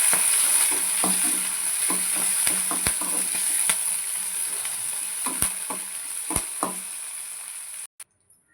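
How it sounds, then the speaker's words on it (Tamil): Cut pirandai (adamant creeper) stems sizzle steadily in hot oil while a spoon scrapes and stirs them, with a few sharp knocks against the pan; the frying fades out near the end, and no voices are heard. "நம்ம கட் பண்ணி வச்சுருக்க பிரண்டையை எண்ணெயில் சேர்த்து நல்லா வதக்கிக்கலாம்."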